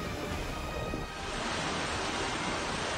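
Wailing Widow waterfall, off the A894 between Loch Assynt and Kylesku Bridge in Scotland: a dense, unbroken roar of falling water, loud and steady throughout with no voices.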